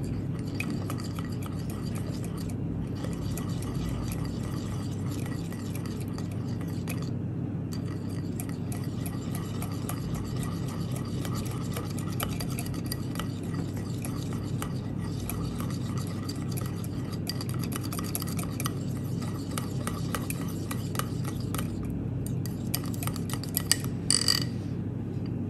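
A spoon stirs a hair styling cream mixture with hyaluronic acid in a container, soft repeated clinks and scrapes in a steady rhythm over a low hum, close and faint, with no talking.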